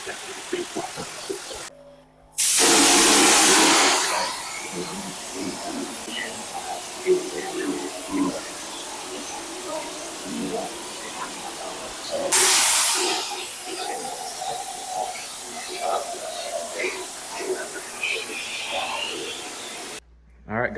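Drywall texture mud blasting from a sprayer onto a mobile home wall in two loud hissing bursts, with someone talking and moving around between them.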